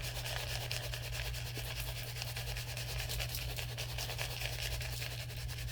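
Dry rub seasoning is worked by hand over wrapped meat, a soft continuous rubbing and scratching texture, close but quiet, steady for several seconds with a faint background hum.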